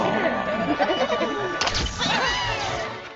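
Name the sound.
sheep bleating, Shaun the Sheep BBC Christmas ident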